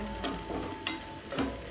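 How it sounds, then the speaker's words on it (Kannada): Onion sizzles in a hot pan for egg bhurji while a spatula scrapes and stirs twice, a short, close, steady frying hiss with no voices. "ನೆಕ್ಸ್ಟ್ ಆನಿಯನ್ ಸ್ವಲ್ಪ ಫ್ರೈ ಆಗಬೇಕು."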